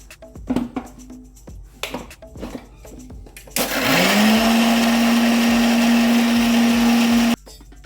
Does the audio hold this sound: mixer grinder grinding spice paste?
yes